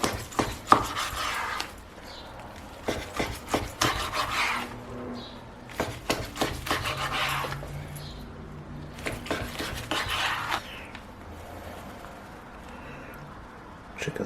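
A knife cuts through a rack of Traeger-smoked ribs in repeated clustered chopping strokes against a board, with scraping sounds and quieter pauses between cuts.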